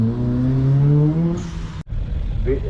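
A BMW Mini Cooper S competition car with a roll cage, at a hill climb event, holds a steady loud engine drone with rising harmonics, then cuts briefly before the engine note resumes nearby.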